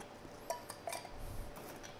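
A chilled drink is stirred, giving a few light, faint clinks of spoon against glass and ice over a quiet background.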